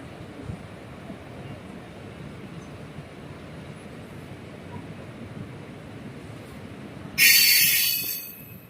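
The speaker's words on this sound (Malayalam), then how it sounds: "തിരുവനന്തപുരം പേട്ടയിൽ നിന്നും ട്രെയിൻ എടുത്തിട്ടുണ്ട്" A Punalur–Madurai Express rolls on after leaving Thiruvananthapuram Pettah, a steady low rumble of wheels and carriages from inside the coach, ending in a sudden loud burst of hissing noise near the end.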